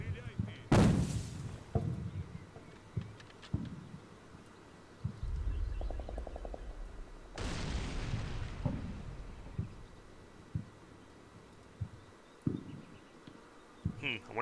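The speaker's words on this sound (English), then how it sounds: "They still got missiles incoming." Missiles and explosions in a Black Sea combat video game: a sharp blast near the start, then a long rushing roar of an incoming missile, with scattered thuds and someone talking over the action.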